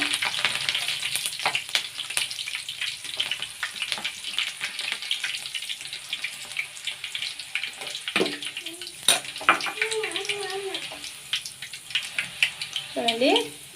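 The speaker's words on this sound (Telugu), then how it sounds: "అదేవిధంగా పచ్చిమిరపకాయలు, కూడా బాగా వేగాలి." Green chillies frying in oil in a pan make a steady close sizzle with crackling bursts, while a voice briefly talks over it near the end.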